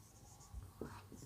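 Handwriting during a physics lesson working out electric potential of a charged rod, a faint scratching of pen or chalk under steady background noise, with no talk.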